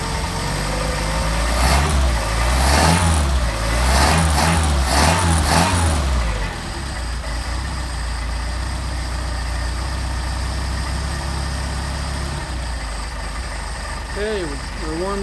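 Warmed-up Mercedes 190SL engine on Solex carburetors running steadily close by, rising in a few revs early on before settling into a constant idle, with talking over the engine.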